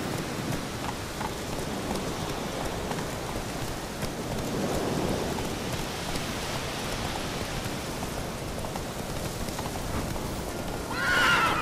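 Roach, the horse in The Witcher 3, gallops steadily under a dense hiss like rain, and a sharp whinny rises at the very end, all with no voices.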